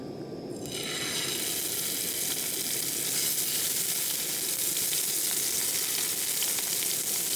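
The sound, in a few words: frying wood pigeon and rabbit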